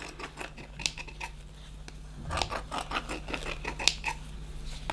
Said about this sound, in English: grab a pair of scissors and just cut along, trying not to cut the brushes themselves